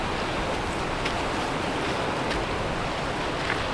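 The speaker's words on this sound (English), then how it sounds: "The wind hasn't died down." Strong late-fall wind at a campsite in extreme weather, a loud, constant roaring rush buffeting the microphone with no letup and occasional brief gusty peaks.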